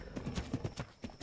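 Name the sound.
horse hooves clip-clopping in the video game Ark Ragnarok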